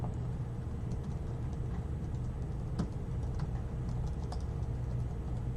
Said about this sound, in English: Wow, I'm tired of typing.